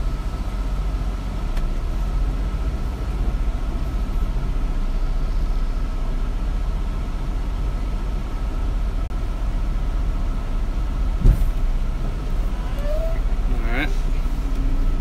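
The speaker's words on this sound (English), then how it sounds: "I'm backing in on my trailer, guys." A semi truck backs its trailer into a spot, a steady low diesel idle rumbling throughout with a brief clunk and a short rising squeal near the end, close and continuous.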